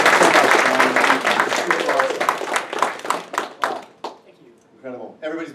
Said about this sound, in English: a big round of applause for these morning sessions